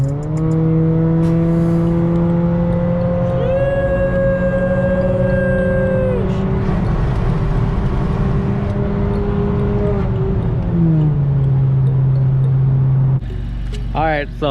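A 10th-generation Honda Accord 1.5T with a KTuned 3-inch exhaust revs loudly and steadily, its engine tone climbing and holding in long sustained pulls before dropping back to idle near the end.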